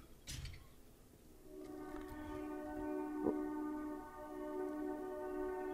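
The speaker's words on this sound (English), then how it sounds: "if I ever moved and got rid of that train sound, I might have to actually play it" Train passing in the background, heard through game audio in 7 Days to Die, a faint steady rumble with a sustained horn tone drawn out over several seconds, distant and low in level, no talking.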